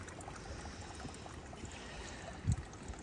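Water from a pipe fed by a water mine on an off-grid farm in the Algarve trickles softly and steadily, with a brief louder splash near the end.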